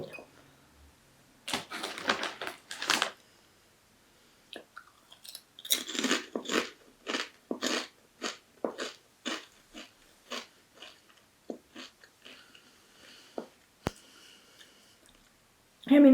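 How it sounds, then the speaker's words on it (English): Crisps crunched in bursts of bites alongside sips of Adnams Ghost Ship, a 4.5% citrus pale ale; close, crisp crunches and clicks come in uneven clusters with quiet pauses between. "let's have a few more sips and a few more bites"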